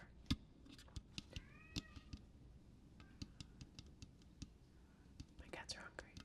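Cats meow a few times, faint and brief, among soft tapping and handling noises, while a person whispers nearby.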